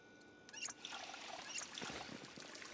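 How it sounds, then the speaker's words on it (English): Water trickles and pours as a container is filled in the zombie survival game Project Zomboid, a soft continuous splashing stream at low volume. "Alright, let's fill up our water."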